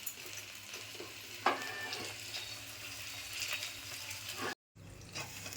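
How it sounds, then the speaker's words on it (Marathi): Stuffed capsicum sautéing in a pan with quiet, continuous sizzling and occasional stirring scrapes, broken by a brief drop to silence near the end. "असे परतून 1-2 वेळेला आपल्याला शेकून तयार करून घेतले पाहिजे"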